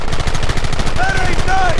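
Rapid, loud gunfire from the Red Dead Redemption video game, a fast rattling burst of shots that continues throughout, with a brief whistling tone in the second half.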